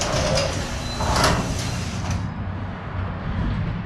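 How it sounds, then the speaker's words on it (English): A garage door rolls open with a sliding mechanical rumble and a few squeaks and rattles, fairly close and steady, then settles into a lower hum. "Let's open this garage door"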